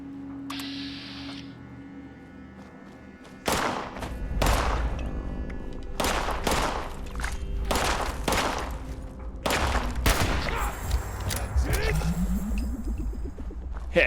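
Gunfire in Fallout 76 arrives after a quiet opening: a run of sharp, evenly spaced shots, close and punchy, set over steady game ambience.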